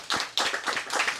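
Audience clapping after a lecture on English nationalism, a short run of close, crisp handclaps in quick irregular rhythm, fairly loud and without voices.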